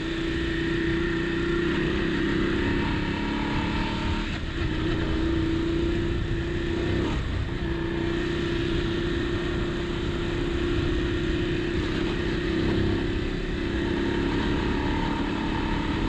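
A Voge 900 DSX motorcycle ridden off-road on tyres run at low pressure, its engine droning loud and steady throughout with slight rises and dips in revs as it travels over rough ground.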